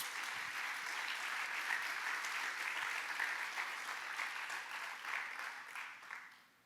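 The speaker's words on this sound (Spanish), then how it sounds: "Dele un buen aplauso a Jesús." A church congregation applauds in a sustained, even wash of clapping that holds for several seconds and then tapers off near the end.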